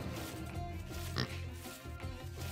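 Pig oinking in the Bronze Age video game, a brief grunt heard over steady game music and ambience.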